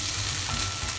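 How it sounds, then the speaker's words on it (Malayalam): Green beans, potato and onions fry and sizzle steadily in a pan while being stirred, a dense close hiss throughout with no talk. "നമ്മുടെ ചട്ടി ഒന്ന് നന്നായിട്ട് ഇളക്കി കൊടുക്കാം"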